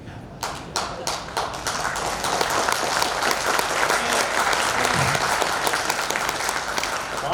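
Sustained applause from a live audience at a Telugu poetry and song performance, dense overlapping handclaps filling the room and holding steady and loud throughout, with a few sharper claps at the start.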